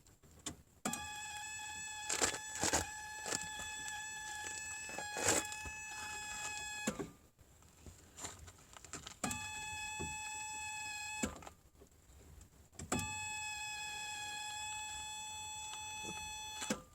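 A warning buzzer in a first-generation Toyota MR2 AW11 that will not start sounds as three long, steady electronic buzzing tones with short gaps between them, fairly close and clear, with a few faint clicks.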